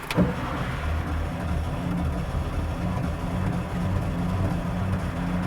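A hot-rodded 1956 Porsche 356 Speedster engine catches after a brief starter crank, then settles into a steady, loud, rumbling idle close by with no talking.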